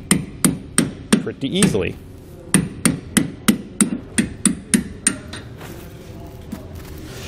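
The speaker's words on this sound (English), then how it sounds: "that lip will drive these old bushings out" Steel hammer blows strike a bolt to drive worn plastic suspension bushings out of a Dexter heavy-duty tandem-axle trailer suspension, a steady run of sharp metallic hits with a brief pause and a short spoken remark in the middle.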